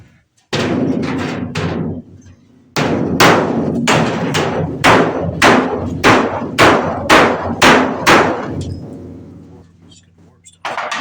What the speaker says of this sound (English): Is the body hammer even going to do anything at this point?